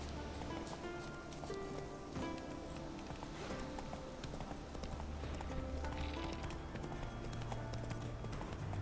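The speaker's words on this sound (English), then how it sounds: "Come here, Roach." A horse gallops in The Witcher 3 video game, its hooves beating in a rapid, steady clip-clop rhythm over a constant background of outdoor ambience.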